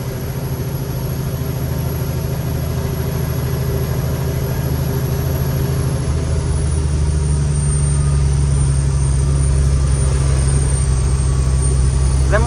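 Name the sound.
car engine revving while shifting gears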